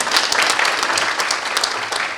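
A sustained, steady round of applause from an audience at a financial inclusion forum, honouring the Deputy Governor, loud and even throughout.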